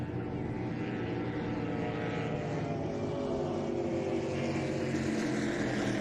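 Offshore superboat racing on Lake Macquarie, a continuous engine roar with a broad droning tone that shifts as the boat passes and drops RPM, heard from a distance.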